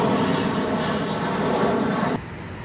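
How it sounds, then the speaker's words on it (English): A loud airplane roars overhead with a broad rushing engine noise, then cuts off abruptly near the end, leaving quieter background rumble. "So these planes are ridiculous."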